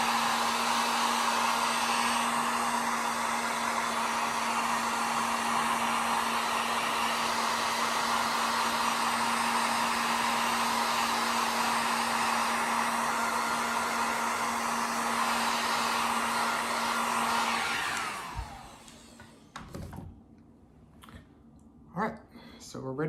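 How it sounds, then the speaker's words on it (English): Heat gun drying layers of rust-effect paint, running as a loud, steady, close whine and blow that stops near the end, followed by faint handling clicks. "So I'm just gonna hit these with my heat gun."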